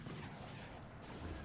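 Cannon fire in the fort-building battle game Forts: a low, dense rumbling boom that fills the moment with rough broadband noise, fairly faint overall.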